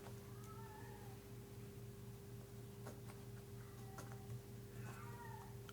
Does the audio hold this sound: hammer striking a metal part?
no